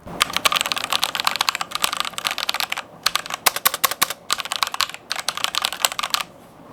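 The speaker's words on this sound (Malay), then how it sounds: "Okey, sekarang aku nak bagi korang dengar bunyi keyboard ni macam mana." Rapid bursts of typing on a Fantech MK853 wired mechanical keyboard with red switches, close and crisp, steady clattering keystrokes with brief pauses, no talking.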